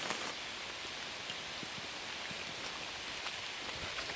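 Steady rain falls and patters on surfaces around a hiker near a swamp and beaver pond, a constant close hiss with scattered individual drop taps, and no talking.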